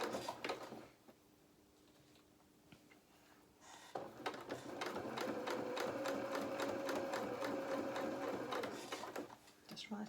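A sewing machine stitches along the hem of a doll shirt, running in a steady whirring burst of several seconds after a quieter stretch, with a person talking over it.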